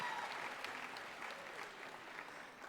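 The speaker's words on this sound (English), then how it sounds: "applaud for family and friends." A college commencement crowd applauds family and friends with steady, moderately faint clapping that holds for the whole stretch without letting up.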